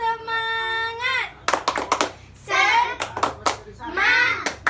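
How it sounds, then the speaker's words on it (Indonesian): A group of children in a classroom chant the rhythmic 'tepuk semangat' clap routine, sung phrases alternating with crisp bursts of hand claps in a steady pattern. "Ayo, tepuk semangat."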